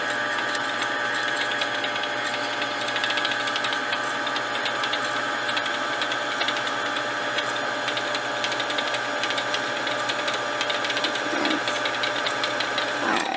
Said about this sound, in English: It does not take as long to thread the bobbin with the fast option.